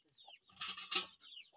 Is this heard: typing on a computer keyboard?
no